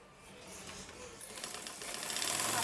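Sewing machine running steadily while winding thread onto its bobbin, a close, even mechanical whir and rattle that gradually speeds up and grows louder over a few seconds.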